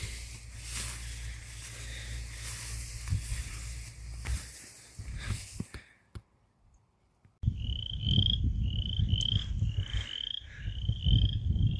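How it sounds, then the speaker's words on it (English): Frogs croak near standing water in a rain-soaked wheat field. A dull rumbling scene drops out briefly, then a steady run of repeated croaks rises clear and fairly close. "I don't know if you can hear that, but that's frogs."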